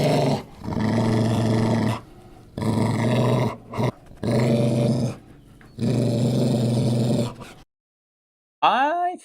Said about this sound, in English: Let's find some other good growls